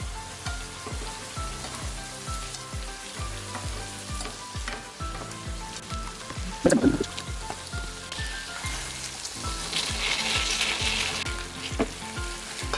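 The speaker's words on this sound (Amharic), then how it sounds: "ማለትም ቺክን በስን በጎን ቲማቲማችንን አብረን እንጠብሳለን።" Chicken pieces and tomatoes frying side by side in a pan for a sandwich, a loud continuous close sizzle with rapid popping spatter and a brief clatter of turning, no talk.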